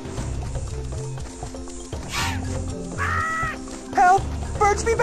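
Game birds caw and squawk in Madagascar: Escape 2 Africa, several harsh calls over a continuous bed of music and game effects.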